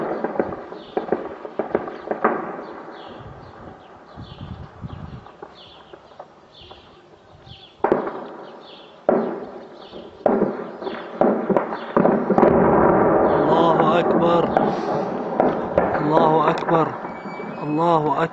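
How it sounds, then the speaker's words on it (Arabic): Rocket and artillery bombardment on the western district of Bosra al-Sham, Daraa, with repeated sharp blasts and bangs, some close and loud, amid continuous shouting voices and crowd noise. "قصف في هجمات الصواريخ والمدفعية يستهدف الحي الغربي"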